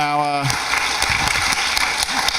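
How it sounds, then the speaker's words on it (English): Audience applause for event sponsors at a talks panel session, a dense, steady wash of clapping from a crowd that starts abruptly and carries on throughout. "I think round of applause definitely for our sponsors"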